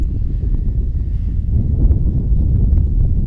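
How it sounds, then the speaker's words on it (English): Wind gusting across an outdoor archery range during a men's recurve gold-medal final, a loud, continuous low rumble of buffeting against the microphone with no voices over it. "Wind picks up again, going that left to right."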